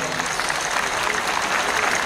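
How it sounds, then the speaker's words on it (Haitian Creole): A crowd claps through a Seventh-day Adventist Sabbat gathering in the Silvio Cator stadium, a dense, steady wash of applause with a voice speaking over it. "gros bravo pour ça, chers frères et sœurs"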